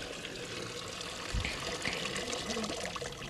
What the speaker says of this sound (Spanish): ¿De qué manera el agua va a caer aquí en la mitad del mundo?